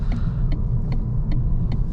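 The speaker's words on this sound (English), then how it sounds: "indicator noise is very strange" A Vauxhall Astra Ultimate's turn indicator ticks in a steady, even rhythm, five soft clicks in two seconds, over the low rumble of the car's cabin while driving.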